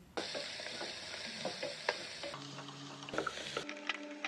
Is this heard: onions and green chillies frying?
yes